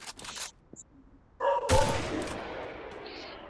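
Machine gun fire in the Free Fire video game: a burst of rapid gunshots, then a loud sustained crackling volley with scraping game effects, with brief sounds of play before it.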